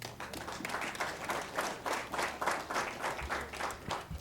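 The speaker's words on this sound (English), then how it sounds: "I forgive you for clapping like that" Rhythmic, evenly paced group clapping from an audience at a medical equipment donation ceremony in Namibia, moderately quiet and continuous throughout.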